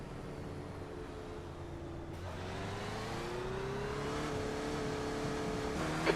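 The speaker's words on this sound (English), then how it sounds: "There's a car approaching." In a racing simulator at VIR North, a race car's engine rises steadily as it draws closer, a continuous droning whine that climbs in pitch and grows louder over several seconds. No one speaks.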